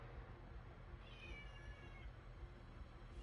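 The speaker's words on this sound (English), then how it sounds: "You hear my cat in here?" A house cat gives a single drawn-out meow, faint and somewhat distant in a quiet room, with no talking over it.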